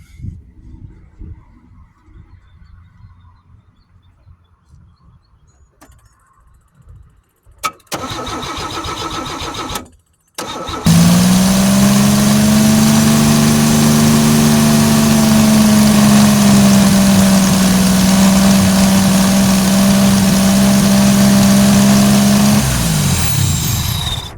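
A 2.8 V6 car engine cranks and fires after a few quiet clicks and brief rumbles, then settles into a loud, steady idle at close range that runs for over ten seconds before cutting off.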